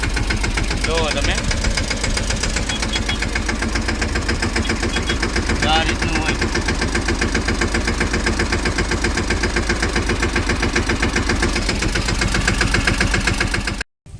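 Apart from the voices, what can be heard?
tractor engine running slowly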